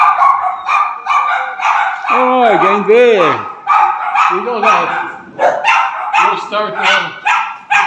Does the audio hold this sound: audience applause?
no